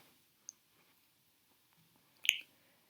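A computer mouse clicks once softly, then gives a sharper, louder click a couple of seconds later in an otherwise quiet room.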